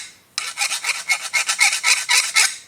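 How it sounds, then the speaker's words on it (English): A hand file rasps across the cut end of steel brake line tubing on an F350 brake repair, about a dozen quick, even back-and-forth strokes, close and clear with no talking. "you just take a file and you want to run your file across the tubing"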